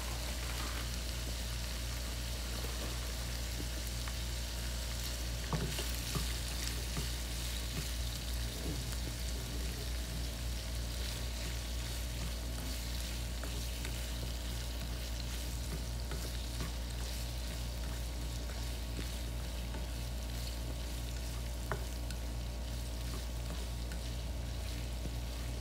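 Water with onion, salt and a bay leaf simmers in a pot for a soup pasta dish, giving a steady dense hiss and bubbling crackle that continues unbroken throughout.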